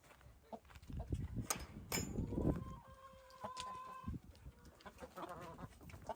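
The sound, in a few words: rooster clucking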